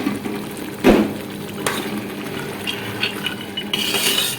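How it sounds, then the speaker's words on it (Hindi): A spoon stirs chickpeas into chana pulao in a pot, with a scraping clatter of metal against the pot near the start followed by softer, intermittent stirring and light sizzling. "अब इसमें हम चने शामिल करेंगे"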